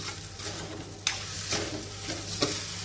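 Barnyard millet with cucumber and chili being sautéed in a pan, a steady close sizzle broken by a few scraping stirs, with no voices.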